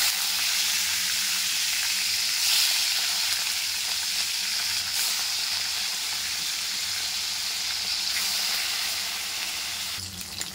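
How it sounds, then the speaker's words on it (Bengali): Fish frying in hot oil for a home-cooked lunch, a steady close-up sizzle and crackle that holds evenly throughout with no voices. "মাছটা ভেজে নেব।"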